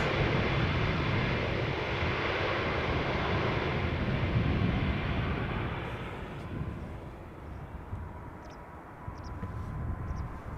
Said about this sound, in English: MNG Airlines Flight 9406, Airbus A330-300, returning to Amsterdam from Istanbul